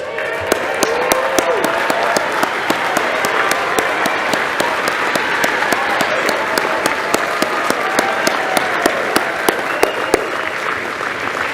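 An audience at a commencement ceremony applauds the graduating students, a loud, sustained wash of many hands clapping steadily from start to finish with a few sharper claps standing out.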